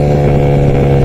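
A Honda-style Raider 150 motorcycle fitted with a 32mm carburetor and bored to 166cc holds a loud, close, steady high-rev engine drone with a strong throbbing exhaust note.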